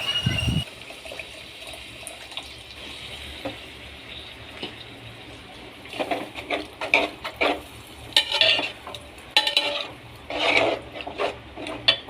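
Coconut-free fish curry with tamarind added sizzles steadily in the pan while a spoon stirs it, producing repeated scraping, clattering strokes that grow busier toward the end, close up with no talking.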